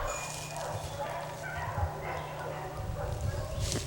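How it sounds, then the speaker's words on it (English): Dogs bark in a sudden flurry outdoors during a disc golf round, several sharp yaps and woofs at moderate distance scattered over steady wind and ambient noise. "Sounds like the dogs got a little riled up there all of a sudden."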